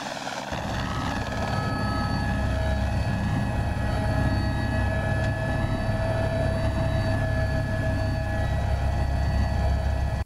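Helicopter waiting with a search team, its engine and rotors running steadily and loudly nearby in a sustained whine and throb without talk.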